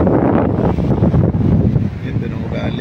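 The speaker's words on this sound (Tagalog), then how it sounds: "Malakas ang hangin." Strong wind buffets the microphone at a fishing pier by the sea, a steady heavy roar with gusty surges throughout and a voice faintly underneath.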